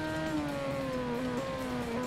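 Engine of a Yamaha R6 motorcycle in the racing video game Ride 2, a steady high whine that climbs and dips with gear changes, loud and continuous with no talk.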